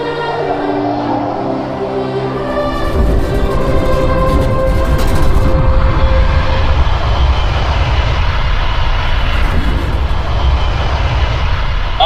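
An aircraft engine roars during an emergency landing in a movie scene, rising from a low tonal hum into a loud, steady, broadband roar that persists to the end.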